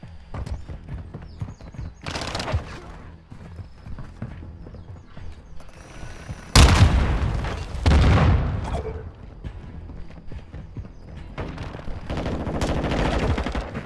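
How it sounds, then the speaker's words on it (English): Gunfire in Modern Warfare 2: scattered bursts of automatic shots, with one loud sharp volley at the midpoint and more rattling bursts around it, over quieter background noise. "I'm taking fire, switching mag."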